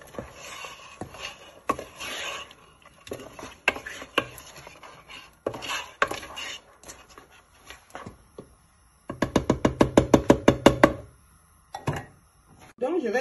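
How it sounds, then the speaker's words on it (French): Spices being crushed by hand in a Burkinabè kitchen while a okra and sorrel sauce simmers: loud, irregular thuds and pounding strikes, with a fast rapid burst of repeated blows midway, close and alone. "je vais écraser les épices"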